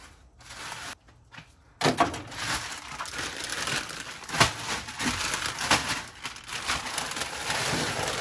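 Dry ice is smashed up close: a sequence of crunching, crinkling cracks and scraping crushes, with short quiet gaps at first and then denser, continuous crushing noise.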